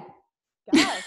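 A woman gives a single sharp, close sneeze, a short explosive burst following a quiet intake and a brief silence.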